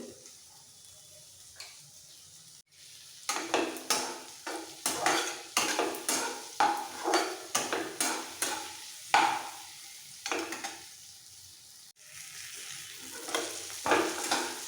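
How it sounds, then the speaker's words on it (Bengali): Mixed vegetables with a pinch of turmeric fry in a pan for South Indian upma, and a spatula stirs them in rhythmic scraping strokes over a soft sizzle. The strokes pause now and then, and no one speaks. "সবজি ভাজতে ভাজতে অনেকটাই সেদ্ধ হয়ে গেছে"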